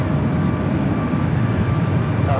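Airbus A350 airliner taxiing at LAX gives off a steady, droning jet engine rumble with a constant hum, moderately loud and unbroken.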